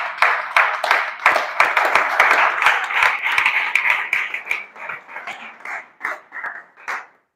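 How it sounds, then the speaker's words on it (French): A small audience claps loudly for an engineer, a burst of rapid hand claps that thins out toward the end into a few last scattered claps. "On acclame très fort pour l'ingénieur"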